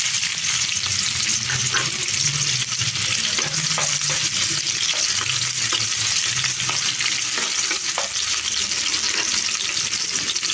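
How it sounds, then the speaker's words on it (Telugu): Thinly sliced onions frying in hot oil in a pan, a loud, dense, continuous sizzle with faint stirring scrapes underneath, close up and without speech. "ఇప్పుడు దీంట్లో ఉల్లిపాయ ముక్కలు వేసుకుంటున్నాను."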